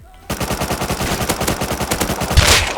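Rapid automatic gunfire in the survival game Rust, a dense unbroken burst of shots that starts abruptly and holds close and loud for over two seconds, with a heavier blast near the end.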